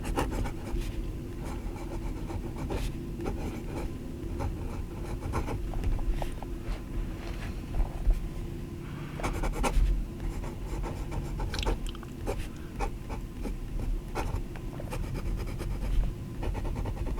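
A Benu Early Bird fountain pen nib, filled with dark blue glitter ink, scratches softly across paper in close, quiet, intermittent strokes with brief pauses between them.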